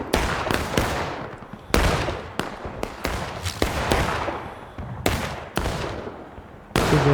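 Civil War cannon and gunfire in War of Rights as Confederate and Union sides trade shots: about a dozen loud, sharp reports at an irregular pace, each with a short decaying tail, near and without speech.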